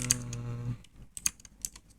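Clicky keystrokes on a computer keyboard during a coding session, a few scattered taps after a low hum fades, close and fairly quiet.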